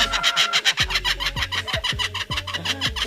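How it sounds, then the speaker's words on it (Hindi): A bird gives a loud, human-like laughing call: a fast run of repeated cackling notes in steady rhythm, close and alone with no talk. "ये 5 तरह की बहुत तेज आवाज निकाल सकता है, जिसमें से एक इंसानों की तरह जोर जोर से हंसने की आवाज भी है।"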